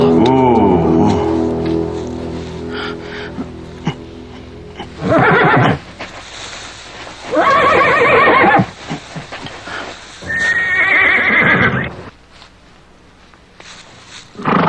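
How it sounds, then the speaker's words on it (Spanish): Horses neigh and whinny in several loud, shrill bursts, close by, with lighter clip-clopping hooves and scuffling between the calls. "¡Detén al caballo!"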